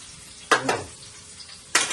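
Onion and ginger going into a lightly oiled pan for squid adobo, heard as two close, sharp bursts of sizzling and stirring over a faint background hiss.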